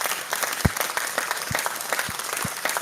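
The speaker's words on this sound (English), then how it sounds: "clap for her, even though she's not here." An audience claps to honour an absent sister who remitted money at a gathering. The applause is steady and moderately loud, with sharp individual claps rising out of the continuous sound and no speech over it.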